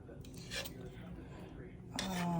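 A metal cooking pot handled in a home kitchen while making Liberian red kidney bean stew, with a few clanks and scrapes and a louder clatter near the end.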